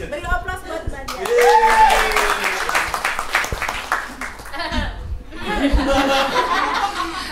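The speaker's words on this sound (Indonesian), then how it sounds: "Beri aplaus buat Mbak Diana." Audience applause for a woman named Diana being called up to share her experience at a sharing session in Indonesia. Loud, dense clapping swells for several seconds, with laughter and voices mixed in, dips briefly, then rises again.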